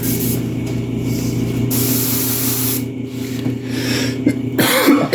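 A spray hisses steadily, then a person coughs a few times near the end, close by.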